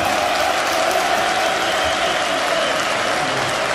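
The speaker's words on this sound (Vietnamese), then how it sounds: "xin mời quý vị hãy dành một tràng pháo tay thật nồng nhiệt để cổ vũ" Audience applause at a village festival dance performance in Vietnam, a dense, steady burst of clapping from a crowd that holds evenly from start to finish.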